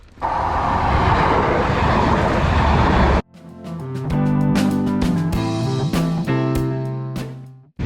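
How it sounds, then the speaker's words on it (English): A loud, steady rushing rumble of a train passing in Norfolk, England, for about three seconds, then it cuts off abruptly and tonal, music-like sounds follow. "I can hear a train."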